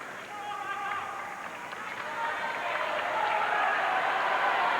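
Tennis crowd of over 8,000 at a 1995 San Jose match between Chang and Agassi applauds and cheers for Michael Chang, a steady, dense wash of clapping and crowd noise that swells slightly toward the end.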